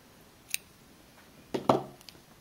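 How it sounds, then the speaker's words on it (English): Scissors snip through crochet yarn during a Tunisian crochet purse project, a couple of quiet, crisp cuts near the end after a faint click, with no talking. "Now I will pull some yarn and I will cut it"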